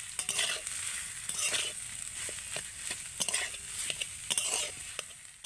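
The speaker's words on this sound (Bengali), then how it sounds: "এবার আমি ভালো করে নেড়ে নেব।" An egg cutlet potato mixture seasoned with cumin, coriander and black pepper powder is stirred in a pan, with repeated scraping strokes over a soft steady sizzle, close and moderately quiet.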